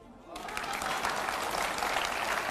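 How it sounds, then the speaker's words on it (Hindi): An audience at a political speech breaks into applause, a dense, sustained clapping that swells within the first half second and stays loud and even throughout. "अब यहां पर जो तालियां बज रही हैं"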